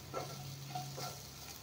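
Chopped onions and green chillies fry in a pan for onion paratha, a soft steady sizzle broken by a few light stirring scrapes.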